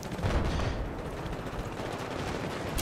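Rapid gunfire from the video game Battlefield 4, a dense continuous barrage of shots and explosion-like rumble filling the whole moment at steady loudness, with no voices over it.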